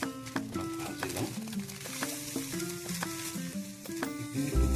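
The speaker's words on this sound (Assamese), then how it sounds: "চুজিখিনি মই অলপ ভাজি লওঁ।" Semolina (suji) frying slowly in hot ghee over a low flame on the stove gives a steady soft sizzle, with stirring noises and a melodic background tune running throughout.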